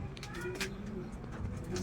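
Racing pigeons cooing nearby in a loft, soft repeated low coos under someone talking, with a steady hum in the background.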